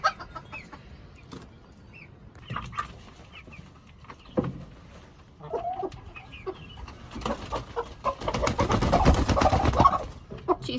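A sitting hen guarding three eggs makes low, grumbling clucks with scattered rustling, building into a louder burst of agitated clucking and flapping near the end.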